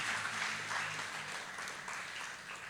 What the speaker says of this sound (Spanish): Dale un aplauso al Señor por la palabra.